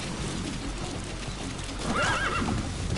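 A horse in the video game Metal Gear Solid 5 whinnies loudly near the end, following steady clip-clopping hooves under ambient game noise.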